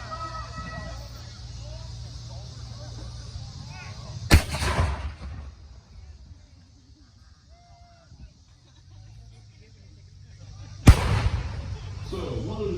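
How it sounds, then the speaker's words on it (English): Two loud, sharp black-powder musket volleys at a Civil War reenactment during a heritage days event, several seconds apart, each with a booming echo, set against outdoor crowd murmur and goose-like honking. "These are not highly accurate weapons, but they make a lot of noise and send a lot of lead flying at the enemy"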